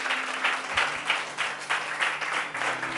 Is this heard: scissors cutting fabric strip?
no